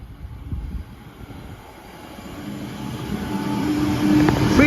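A British Rail Class 323 electric train on the West Coast Main Line moving from sidings toward a depot, heard as a low rumble and whine that builds steadily louder as it approaches, with some wind noise and no talking.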